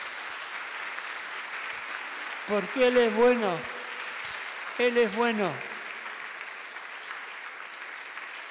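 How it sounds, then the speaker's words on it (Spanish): Applause from a church congregation forms a constant hissing backdrop while a voice speaks or sings twice over it, the clapping holding steady underneath. "Dale un aplauso al Señor Jesús"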